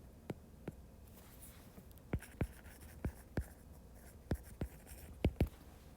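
Marker or chalk strokes on a classroom board during a geometry lesson: a series of sharp, distinct taps and squeaky strokes in an irregular rhythm, close and clear over a faint room hum, with no talking.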